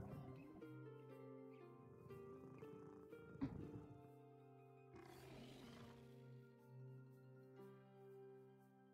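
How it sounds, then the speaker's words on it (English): A virtual pet dragon in the VR game Orbus VR gives a low, steady rumbling purr that runs throughout, quiet and continuous, with a brief thump partway through. "You get haptic feedback when you pet him, and he purrs."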